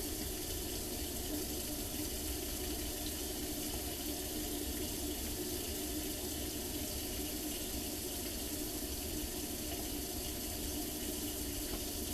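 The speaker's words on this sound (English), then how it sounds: "So we're going to take our warm hot water, and this is about 2 cups" Warm water runs from a kitchen tap in a steady, even stream that continues unbroken at close range, with no talk over it.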